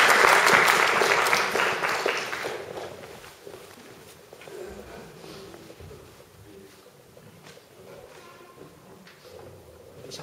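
A church congregation applauds to welcome a speaker, a loud burst of clapping that fades within a few seconds into quieter shuffling and footsteps.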